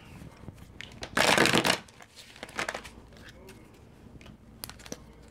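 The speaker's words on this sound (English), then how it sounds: "I'll just give these a couple shuffles." Tarot cards are riffled together in one quick crisp burst, followed by softer shuffling taps and light handling noises close to the microphone.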